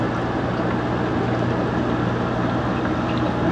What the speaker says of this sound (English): we're going to turn on the pump to full blast